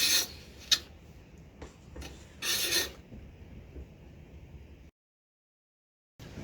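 A bladed hand tool takes fine slivers off a piece of wood in a few short scraping strokes. The rasping strokes are close and quiet, and a brief silence follows.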